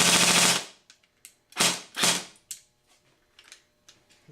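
An AGM M4 RIS airsoft gun with a new gearbox and stock motor fires a loud burst of rapid full-auto shots up close, then a few single pops and fading mechanical clicks.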